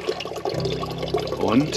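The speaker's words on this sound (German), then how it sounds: "hier unten fließt das Wasser raus." Water runs out of a small roadside fountain by a stone stele on a Bavarian pilgrimage route near Ammersee, a soft, steady trickle heard close by beneath someone speaking German.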